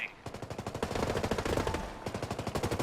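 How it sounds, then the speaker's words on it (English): Rapid automatic gunfire from the video game Ghost Recon Breakpoint, rattling in fast regular bursts with a brief pause midway, loud and close, with no speech over it. "They're shooting."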